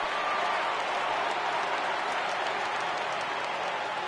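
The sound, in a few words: crowd cheering in video game MLB The Show 18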